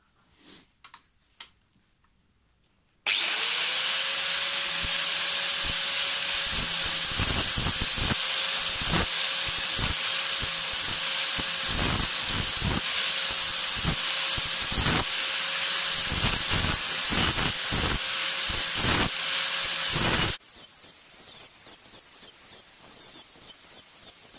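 Hedge trimmer blades being sharpened on a grinder: a steady, loud, hissing grind that starts abruptly after a few faint knocks, runs continuously for about seventeen seconds with a sustained whine and repeated scraping bursts, then cuts off into a quieter hum.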